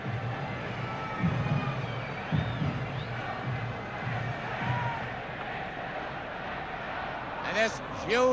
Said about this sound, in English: this huge crowd now trying to sing Celtic to victory in this European Cup semi-final